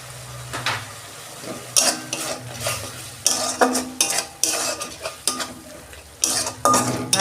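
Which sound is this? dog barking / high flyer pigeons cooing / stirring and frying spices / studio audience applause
stirring and frying spices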